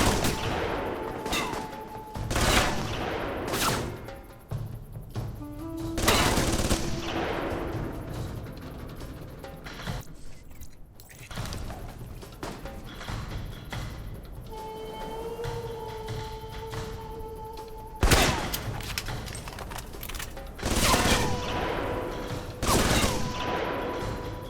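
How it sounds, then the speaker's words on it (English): Machine gun fire in the video game Alpha Protocol, loud repeated bursts of rapid shots separated by short pauses, with ringing tonal game sounds between them. "That's the machine gun."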